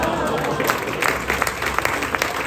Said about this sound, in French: on peut également l'applaudir chaleureusement